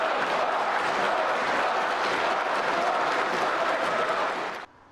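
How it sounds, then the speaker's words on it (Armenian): Deputies in Ukraine's parliament applaud the outgoing prime minister, a sustained dense wash of clapping from a large chamber crowd, even and continuous before cutting off abruptly. "Պատգամավորների մի մասը նրան ծափահարություններով են ճանապարել"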